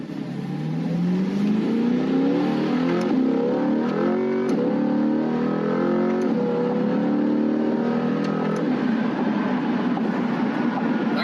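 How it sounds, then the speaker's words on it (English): A Corvette C8 accelerates hard through first and second gear, its engine note climbing in rising sweeps with a shift partway through, loud and close from inside the cabin with no talking. "I'm going to give it a little gas here."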